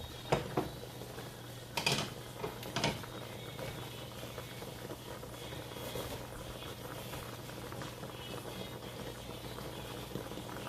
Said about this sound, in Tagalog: kumulo na siya masyado